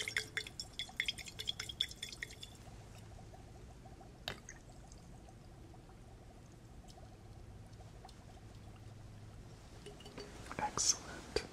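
Distilled water dripping and trickling into a vessel in an ASMR chemistry role-play, soft close drips and pours amid faint whispering and small handling sounds.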